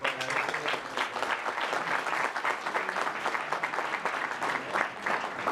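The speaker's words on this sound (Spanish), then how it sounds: "Así que enhorabuena y un aplauso." An audience at a Pan-American congress gives a round of applause, dense continuous clapping that holds at an even level throughout with no talk over it.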